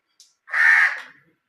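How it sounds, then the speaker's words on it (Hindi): Outdoors on a winter evening, a single crow gives one harsh caw, close and clear, preceded by a faint short chirp, with silence around it. "मुझे परिंदों की आवाज़ बहुत अच्छी लग रही थी।"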